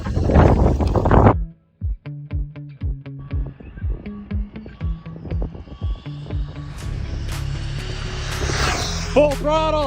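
A Jiusi PT14R RC truck on a 4S battery gives a run of short electronic beeps and motor chirps, then its high-pitched motor whine surges briefly at full throttle, with wind buffeting the microphone.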